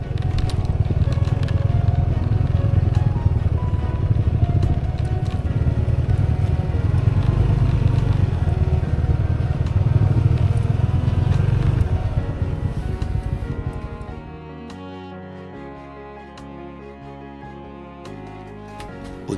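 A motorcycle rides from Bandung toward a mountain basecamp with a steady engine drone and road rumble for about twelve seconds, then drops away abruptly as soft music takes over.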